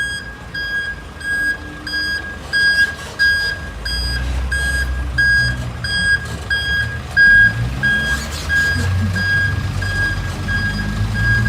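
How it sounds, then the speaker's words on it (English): A truck drives past with a steady series of high reversing beeps repeating at even intervals, over a loud rumbling engine that swells and fades, close by with no talking. "Oh, here's a nice truck"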